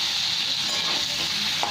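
Sliced onions frying lightly in a pan for a sweet and sour onion curry, a steady close hiss of sizzling oil with faint stirring, no talk.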